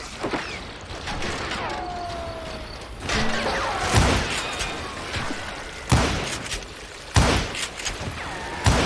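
Gunfire in the Western shooter Call of Juarez Gunslinger: several sharp, loud shots land at irregular intervals over a low, busy background, with no voices.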